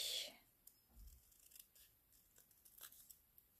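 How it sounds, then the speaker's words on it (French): Scissors snip and slice through paper while making a spring card, giving quiet, close, crisp cuts with soft rustling in between and no talking. "Je vais découper."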